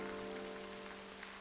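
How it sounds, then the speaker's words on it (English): Rain falls in the video game Final Fantasy XIII as a soft, even hiss, faint and steady, with a low background hum and no voices. "Raining for real now."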